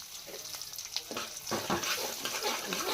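Peanuts frying in hot oil for puliyogare, a continuous close sizzle and crackle that swells slightly toward the end.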